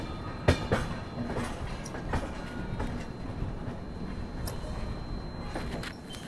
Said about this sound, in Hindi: फ़िलहाल अपनी ट्रेन जो है वो गाज़ियाबाद स्टेशन पहुंच चुकी है।